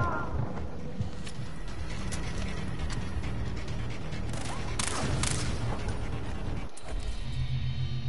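Far Cry 3 gunfire rattles through dense, continuous game noise, with sharp shot transients scattered across the stretch and a louder burst near the middle, all loud and busy.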